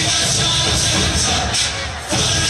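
Dense, loud applause and crowd noise from an audience at a school annual function, a steady wash of clapping that dips briefly near the end before surging back.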